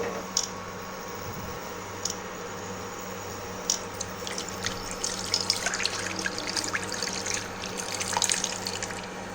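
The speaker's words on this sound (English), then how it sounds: "I'm just going to add some water." Water splashes and trickles steadily into a pan, with scattered light drips and clinks over a low background hum.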